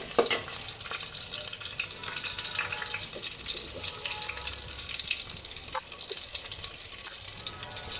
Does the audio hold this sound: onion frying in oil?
yes